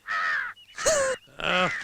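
A crow caws three times, loud and close, each harsh call separated by a brief pause, with no other sound around it.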